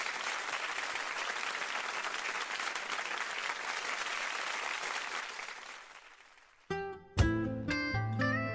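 An audience applauds a singer with dense, sustained clapping that fades out, then a loud sung note with musical accompaniment cuts in sharply.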